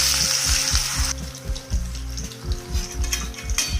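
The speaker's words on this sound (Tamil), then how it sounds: "இப்போ நம்ம இதை ஆயிலில் ஃப்ரை பண்ணி எடுத்துடலாம்." Marinated chicken 65 pieces frying in hot oil, a loud close bubbling sizzle at first that settles into rhythmic crackling and rattling pulses, with no talk.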